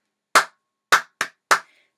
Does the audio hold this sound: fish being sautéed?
no